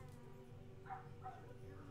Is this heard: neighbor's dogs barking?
yes